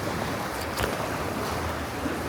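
Sea waves surge and wash inside a lava cave in Japan, a steady broad roar of churning water echoing close around, with no pauses.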